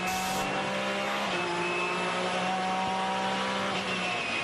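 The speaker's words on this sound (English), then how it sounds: "That unmistakable sound, though, of the Porsche engine that has won so many times" Onboard a Porsche GT race car at Daytona, a steady high-pitched engine whine holds at sustained revs, loud and continuous throughout with no talk.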